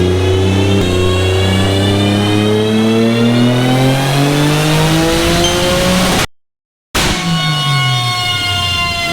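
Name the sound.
Nissan 300ZX engine revving on a dyno pull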